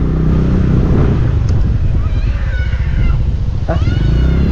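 A motorcycle rides along with its engine droning loudly and steadily up close. A voice speaks briefly over the rumble.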